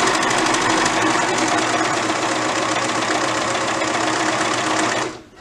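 Sewing machine stitching steadily at full speed on a bouncy, shaking table, a loud continuous whirring hum with rattling vibration throughout, stopping abruptly near the end.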